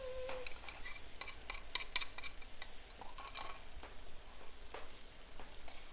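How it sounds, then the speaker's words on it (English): Ground pork cooked until no longer pink being stirred into an egg roll filling mixture, with soft scraping and light clinks of utensil against bowl, faint and close, alone without talk. "Now we're gonna mix it in."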